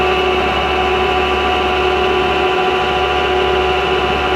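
A machine tool runs steadily while cutting a part for a radial engine, giving a loud, even mechanical hum with a constant pitch, close and alone, with no talking over it.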